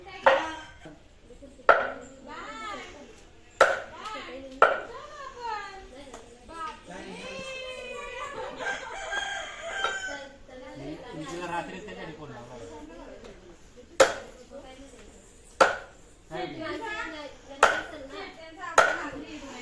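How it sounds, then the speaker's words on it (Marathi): A knife chops onion and tomato on a board in sharp, irregular strikes, with voices talking between the cuts. "माझी मम्मी सुद्धा कांदा आणि टॉमॅटो का कापत आहे"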